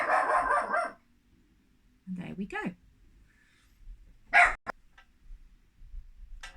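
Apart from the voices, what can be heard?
Teddy the dog barking in the background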